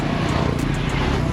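Motorbikes on a bridge's pedestrian lane make a steady, loud engine drone that fills the whole clip without any break, with no speech.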